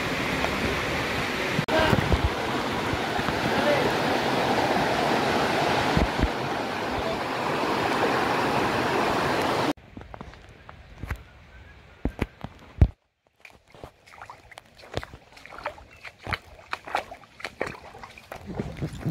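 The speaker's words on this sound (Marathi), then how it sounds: "असं पाण्याचा आवाज छान येतोय." Water in a jungle stream on a trek to Devkund Waterfall rushes in a steady broadband roar. It then gives way to quieter, scattered splashes and sloshes of feet wading through shallow water over stones.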